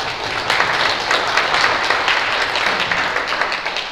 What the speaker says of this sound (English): Yes, we can clap for that.